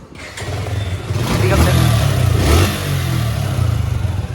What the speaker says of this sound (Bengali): লুজ টাইমিং চেন লুজ এর শব্দটা দেখাই দিন কেমন হয়েছে